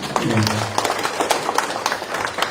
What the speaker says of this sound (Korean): 수고했던 박수 한번 더 드립니다.